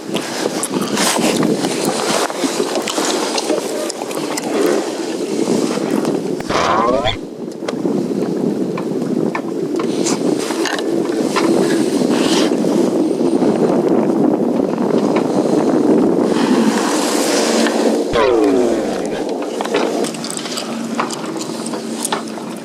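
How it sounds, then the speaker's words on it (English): Wind and water surround a sailboat moving at about two knots in February as the breeze picks up, a constant rushing wash of wind noise with creaks of rigging and brief gusts, under occasional talk. "the wind is picking up a little bit now"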